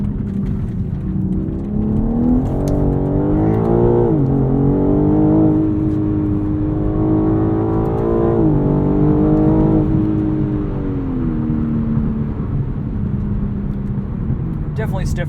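A 2021 BMW M3 Competition pulls hard from inside the cabin, its loud exhaust droning and rising in steady revs throughout, with a voice talking over the engine.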